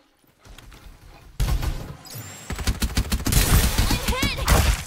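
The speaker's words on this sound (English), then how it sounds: "His machine is shooting me." Enemy machine gunfire in the video game Farlight 84, a rapid burst of shots that swells louder toward the end, with a voice faintly present in the mix.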